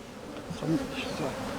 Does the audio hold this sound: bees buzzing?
yes